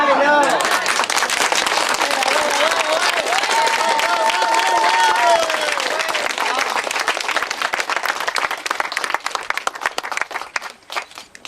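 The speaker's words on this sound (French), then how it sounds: "c'est pas le tonnerre de vos applaudissements que j'ai entendu" Sustained audience applause and cheering at an outdoor medieval-style wedding, a dense crowd clapping loudly and steadily before tapering off toward the end, with voices mixed in.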